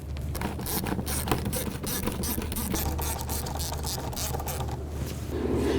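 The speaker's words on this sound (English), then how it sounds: "Using an 8mm socket, we're going to go ahead and loosen this hose clamp here, and this one right here" Ratchet wrench with an 8mm socket loosening hose clamps under the hood of a 2004-2009 Dodge Durango, with steady clicking and scraping mechanical bursts over a constant low hum, close and continuous, with no talk.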